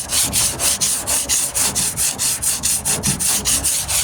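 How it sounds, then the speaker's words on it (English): Hand sanding a rusty 1998 Ford Ranger tailgate with 40 grit sandpaper: loud, close, rhythmic rasping strokes repeating evenly back and forth with no pauses. "And I sand until I find a low spot."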